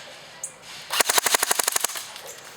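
An Umarex H&K G36C airsoft electric gun fires a single rapid full-auto burst of about a dozen sharp cracks in a quick even rhythm, loud and close, with a small click just before.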